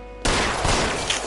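Loud, sustained burst of Tommy gun fire in L.A. Noire, a dense rapid stream of shots filling the whole stretch after a brief quieter lead-in.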